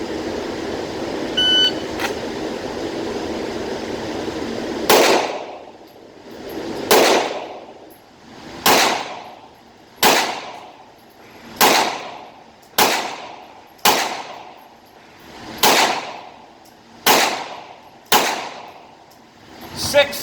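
Ten pistol shots fired strong hand only during a Defoor hat qualification course, loud sharp cracks at a steady, roughly one-second pace after a quiet lead-in, each with a short ringing decay.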